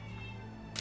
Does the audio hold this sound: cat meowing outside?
yes